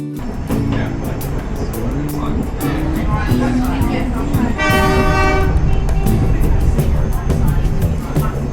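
A train passes close by with a loud, continuous rumble, and its horn sounds one sustained blast midway through.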